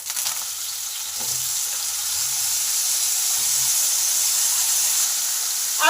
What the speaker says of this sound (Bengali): তেল গরম হলে তেলে আলুগুলো দিয়ে দিলাম।